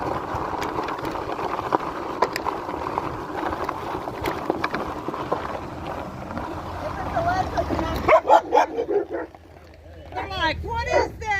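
Dogs bark at an e-bike rider wearing a helmet on an Ariel Rider 52V X-Class ride, a burst of rapid close barking toward the end after steady wind and road noise, with a person talking over it.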